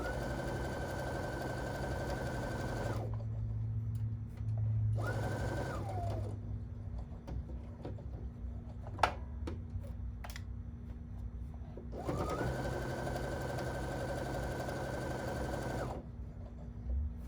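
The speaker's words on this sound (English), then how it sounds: "And now I'm going to sew." Sewing machine stitching fabric in bursts, a run of about three seconds, a short one, then a longer stretch near the end, with quiet pauses and small clicks between runs.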